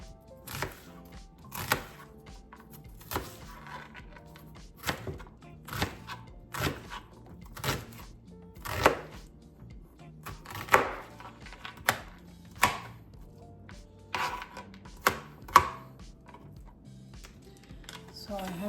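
Onion being chopped with a knife on a cutting board while making chicken chili, a series of sharp, close taps in an uneven rhythm, with some quiet background sound between strokes.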